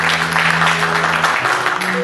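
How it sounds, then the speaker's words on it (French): An evening audience applauds the Haiti Première Classe team, a dense burst of clapping over held musical tones. "Alors je vous prie d'applaudir ce soir toute l'équipe de Haïti"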